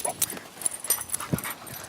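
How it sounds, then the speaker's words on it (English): Dogs being introduced to each other, with soft scuffling paw sounds and brief faint whimpers scattered through a short, quiet stretch, close to the listener. "So Buddy's kind of jumping around because I'm holding Tucker back"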